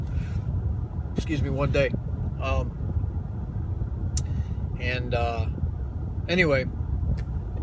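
A steady low exhaust drone rumbles inside a moving 2015-18 Ford Mustang with Corsa exhaust and windows up, while someone talks over it.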